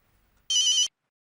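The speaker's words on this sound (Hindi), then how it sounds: "नाम लिया और फोन आ गया।" A telephone rings once in a short electronic burst of bright trilling tones that lasts about half a second, loud and close in an otherwise quiet office.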